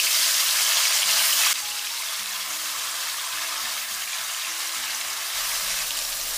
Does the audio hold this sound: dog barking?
no